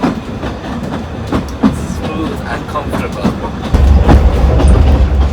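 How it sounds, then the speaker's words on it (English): An old narrow gauge train on a preserved, volunteer-run Welsh railway rumbles and clatters along the tracks with a steady clickety-clack that grows heavier toward the end, while a voice briefly speaks over it. "you can feel the age of the train as it goes"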